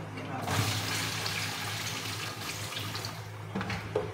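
Tap water runs steadily into a sink while raw chicken is washed, close and constant, with faint splashes and handling noises throughout.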